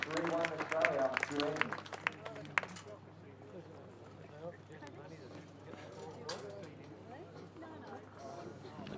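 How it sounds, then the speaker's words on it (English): Crowd applause at a lawn bowls match, Trans Tasman Triples 2010 between Australia and New Zealand, loudest in the first few seconds then easing into a low murmur with scattered claps under a commentator's voice. "The crowd enjoying the early moments of this match."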